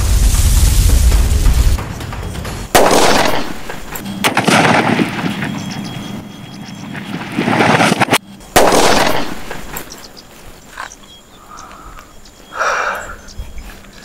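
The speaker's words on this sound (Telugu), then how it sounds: "ఈ అల్యూమినియం ఫాయిల్ అయితే పేలేసరికి మాకైతే సౌండ్ ధన ధన ధనం అని అనిపించింది" A Lakshmi bomb firecracker wrapped in aluminium foil explodes outdoors: a loud low boom opens, then sharp cracks and a sustained crackling burst, followed by another heavy bang and fading scattered noise, with no voices.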